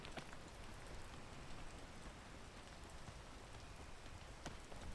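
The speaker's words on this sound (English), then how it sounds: "I'm going to wait until the rain goes." Steady rain from the video game Peak, a dense even patter on surfaces with occasional sharper drops, moderately faint and continuous throughout with no talking.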